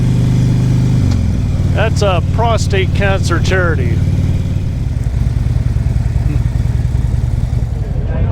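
Motorcycles idling at the Ride for Dad charity motorcycle event in Whitehorse, Yukon, with a loud, steady engine drone throughout and people talking over it.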